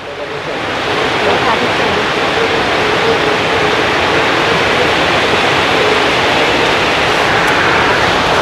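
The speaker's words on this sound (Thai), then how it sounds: "ฝนตกใส่เลย" Heavy rain pours outdoors in a dense, even roar that rises quickly and holds loud and unbroken, with no voices.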